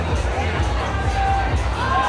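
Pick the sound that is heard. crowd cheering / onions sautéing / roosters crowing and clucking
crowd cheering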